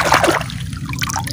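Water runs and splashes while toy cars are washed, a steady trickling and spattering flow that is close and fairly loud, with brief wet knocks over it.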